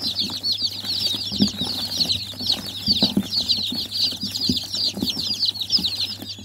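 A flock of chickens and chicks on a small farm cluck and cheep close by in a busy, continuous chatter, with occasional soft rustling and no talking.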